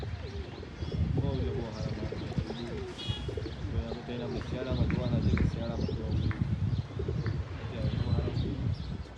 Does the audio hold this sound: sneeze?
no